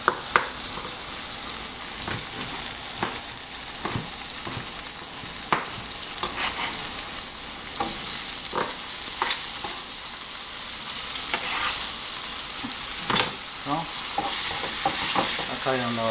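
Chopped tomatoes sauté in a hot pan for kothu parotta, a steady loud sizzle broken by repeated sharp scrapes and clacks of a spatula stirring, with a quicker run of strikes near the end and no talking.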